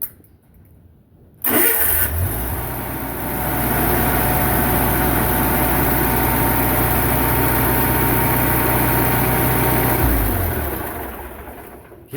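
A late-1980s lift's engine cranks and catches, then runs at a loud, steady idle for several seconds, close by, before shutting off abruptly near the end.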